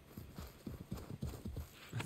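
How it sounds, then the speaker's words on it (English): A horse's hooves clip-clop in Assassin's Creed 3 Remastered on PlayStation 5, a quiet, steady rhythm of about a dozen close, regular steps with no speech. "Oh, it's my horse."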